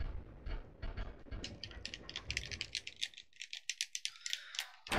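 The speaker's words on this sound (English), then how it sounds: "That's the sound of my controller." Game controller buttons clicking in rapid, uneven bursts, close and fairly loud, rising into a quick run of sharp separate clicks near the end, over a low background rumble.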